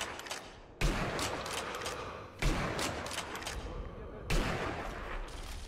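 Enemy machine gun fire in the shooter game Sniper Elite V2: loud, dense bursts of gunfire with three sharp heavy impacts, the shooting rolling on continuously and close.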